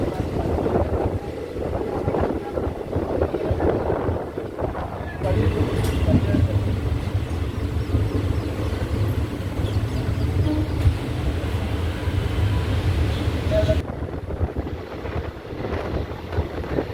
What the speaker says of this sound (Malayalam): അമ്പലപ്പുഴ റെയിൽവേ സ്റ്റേഷനിലേക്ക് ട്രെയിൻ എത്തിയിരിക്കുകയാണ്.